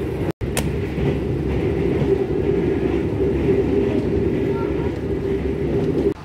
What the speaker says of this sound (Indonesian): Perjalanan saya naik kereta api Ciremai menuju Bandung